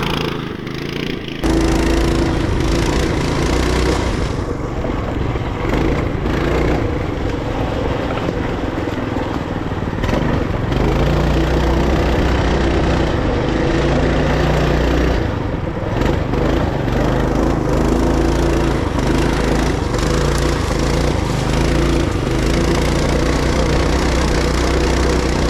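Single-cylinder engine of a full-suspension Coleman B200RSV mini bike runs steadily through a ride, a loud continuous mid-pitched drone with rising and falling throttle surges, close by throughout.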